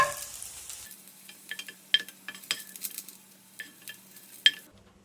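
A spatula scrapes half-cooked okra out of a pan into a bowl, with close, intermittent scrapes, taps and light clinks of metal on cookware over a faint sizzle. No one speaks.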